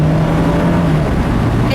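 2017 Fiat 124 Spider Lusso engine running while driving, a loud steady droning hum with road and wind noise in a continuous close cabin wash, no distinct revving changes.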